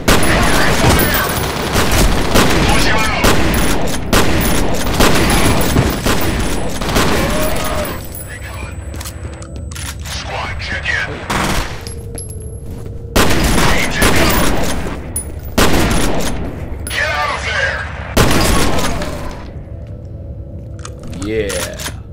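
Rapid gunfire bursts from the shooter game F.E.A.R. crack and boom in loud clusters, broken by quieter gaps, with someone talking over parts of it.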